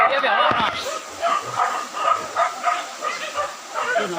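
Hunting dogs bark and yip excitedly in a string of close, repeated barks during a hunt, with people's voices talking and calling over them throughout.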